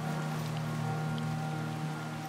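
Steady rain falls throughout a stretch of the Chernobyl open world in the video game Chernobylite, a dense, even hiss with a constant low hum beneath and no talking.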